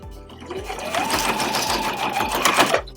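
Sewing machine stitching a fabric heart garland, running in a brief, fast, steady burst close by, its needle thumping rhythmically throughout.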